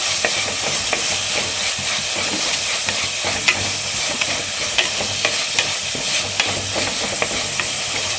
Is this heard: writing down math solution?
no